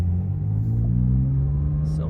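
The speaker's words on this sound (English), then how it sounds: "as well as the sport exhaust is on as well." Porsche 911 S/T engine with the sport exhaust open, a steady low rumbling drone while cruising gently, close and continuous with no sharp revs.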